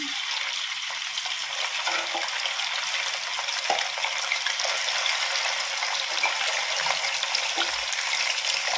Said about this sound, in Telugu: ఈ నూనె అయితే బాగా వేడవ్వాలండి తర్వాత మనం చికెన్ వేపుకుందాం